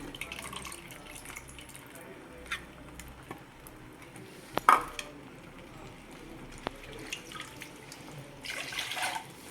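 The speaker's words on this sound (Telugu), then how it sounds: "చింతపండు పిసికినండి పోసేసుకుంటున్నాను" Tamarind water is poured into a pan while cooking paneer masala, a faint soft trickle and splash in a quiet kitchen with scattered clinks, the pour growing louder near the end.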